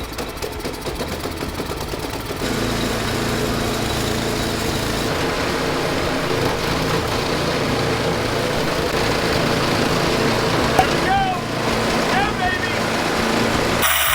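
An Ariens snowblower with a newly replaced drive lever runs on a test spin, its engine droning steadily and fairly loud throughout, with a voice talking over it.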